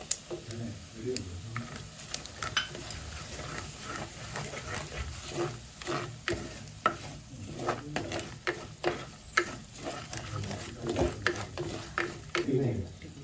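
Chilli and spice powders get stirred into a frying onion base for beef curry, a soft continuous sizzle under repeated scraping spoon strokes in an uneven rhythm, heard fairly faint and close.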